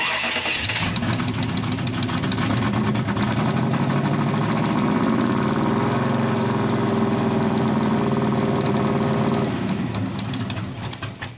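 A gasser drag truck engine catches and fires up, then settles into a loud, lumpy idle close by that runs steadily for several seconds before fading near the end, with no talking over it.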